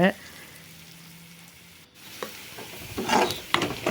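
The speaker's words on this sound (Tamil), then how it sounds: "ஆனியன் நல்லா வதங்கிடுச்சிங்க" Onions sizzling and frying in a pan while squid thokku is cooked, a soft steady hiss with louder crackling bursts near the end as the pan is stirred, close by with no talk.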